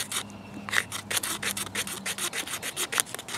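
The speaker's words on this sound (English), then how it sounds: "You can definitely create shavings with it because it is so thin." Rhythmic scraping strokes of a thin Leatherman Wave multi-tool blade shaving wood into tinder, about a dozen quick rasps close to the ear, with no voices.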